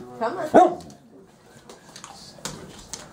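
Dog in a busy house kitchen letting out a couple of sharp barks close by, the loudest burst coming early, followed by quieter household sounds and faint voices in the room.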